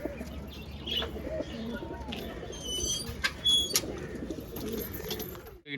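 Racing pigeons in a loft giving low cooing calls with a few chirps and brief wing flutters, while someone talks over them.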